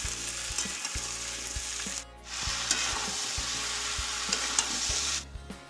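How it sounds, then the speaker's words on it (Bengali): Cinnamon and bay leaves sizzle in hot oil in a pan for dal, a steady close frying hiss with occasional stirring knocks, briefly dropping out midway, no talk. "একটু দারচিনি আর তেজপাতা দিয়ে দিয়েছি।"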